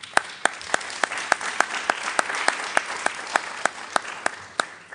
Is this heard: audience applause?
yes